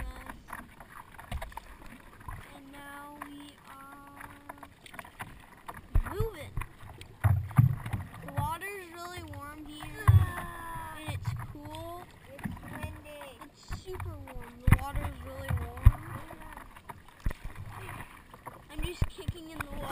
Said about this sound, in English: And we're just paddling.